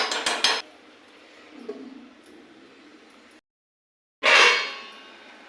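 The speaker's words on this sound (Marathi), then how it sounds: "आता ह्याला झाकण ठेवते" A metal lid set onto a cooking pot, giving a quick run of clanks and rattles at the start, a quiet stretch, then a sharp, bright metallic clatter near the end.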